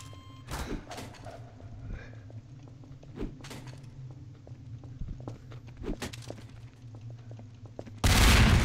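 Gunfire in the video game Garry's Mod rings out as a few sharp, loud shots spread across several seconds, with scattered thuds between them and a harsh burst of noise at the end.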